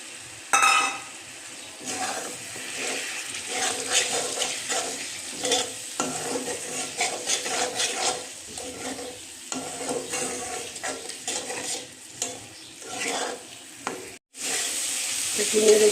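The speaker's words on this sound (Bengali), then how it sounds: "মশলা থেকে তেল ছাড়তে শুরু করেছে। দিয়ে দিচ্ছি টমেটো কুচি।" Chopped tomato hitting hot spiced oil in a pan for a light fish curry, then stirred with a metal spoon: close, loud sizzling and frying with repeated scraping and clinking strokes against the pan, rising again after a brief break near the end.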